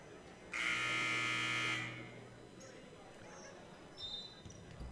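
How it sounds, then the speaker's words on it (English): A loud, flat electronic buzzer blares for about a second at a women's college basketball game, then fades into the low murmur of the arena crowd. "Buzzer sounds, and we're ready to go."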